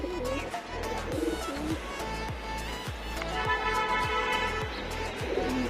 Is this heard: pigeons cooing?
yes